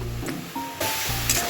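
Onion-tomato paste with ginger paste is sautéed in a pan, giving a brief continuous sizzle and hiss close by, growing slightly louder partway through, with no voices.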